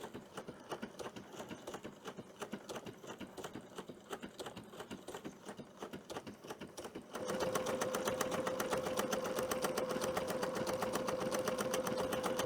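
A Bernina sewing machine runs stitch 38, its chain stitch, with a rapid even clatter. Halfway through it speeds up into a louder, denser whir with a faint steady tone, running nearby with no talking.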